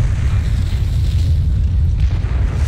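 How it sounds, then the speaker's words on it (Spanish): Tank cannon fire in a StarCraft 2 match: a loud, continuous low rumbling roar of overlapping booms that barely lets up. "Nada más como retiemblan los tambores de estos cañonazos de los tanques allí de Gumiho"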